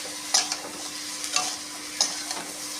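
Pumpkin greens stalks stir-frying with potatoes in a pan, a steady broadband sizzle broken by three sharp scraping stirs spaced about a second apart, close and fairly quiet with no talking.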